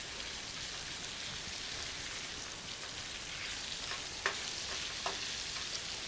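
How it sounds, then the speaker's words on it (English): Brussels sprouts and steak frying in a pan crackle faintly and steadily, with a few soft clicks of stirring over the sizzle. "We're gonna stir this up a bit."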